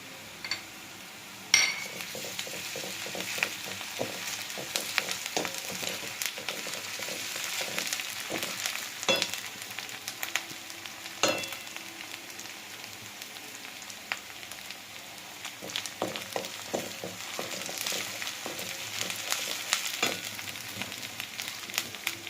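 Ginger and garlic sizzle in a pan, a soft steady frying hiss with scattered clinks and scrapes of a utensil stirring, moderately close and free of talk.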